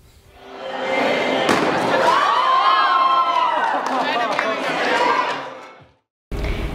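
Students cheer and shout as a group while breaking a piñata, a loud crowd roar that swells, holds for several seconds and fades, then cuts off abruptly.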